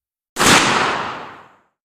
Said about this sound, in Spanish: El disparo resonó en la pequeña sala